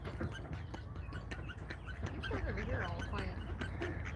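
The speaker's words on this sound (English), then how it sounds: "It's a very noisy duck." Noisy ducks quack and squabble near water, a scatter of harsh nasal calls over a steady outdoor background hum, loudest toward the end.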